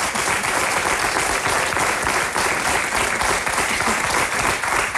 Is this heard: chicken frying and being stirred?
no